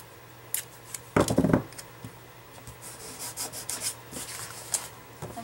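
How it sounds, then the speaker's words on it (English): Scissors cut through paper close by, with several soft snipping and rubbing sounds, a louder burst of cutting in the middle, and quieter scattered snips after it, in a quiet room during a silhouette craft project. "And then I just like to take my scissors"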